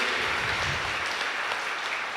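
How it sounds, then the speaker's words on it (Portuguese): A congregation in church applauds for its grandparents during a Sunday Mass homily, a dense, steady wash of many hands clapping that fills the room without talk. "Uma salva de palmas para os nossos avós."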